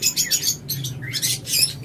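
Pet lovebirds and budgerigars of fine mutation colours chirp and tweet busily at a bird sale, several birds calling in quick overlapping bursts, fairly close and continuous.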